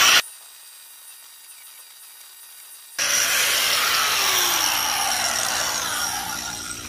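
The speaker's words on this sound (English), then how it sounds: "let me go and grind this bar off" A grinder cuts a metal bar off a trailer ramp frame, starting after a near-silent pause and then running as a loud, steady, harsh whine that fades slightly toward the end.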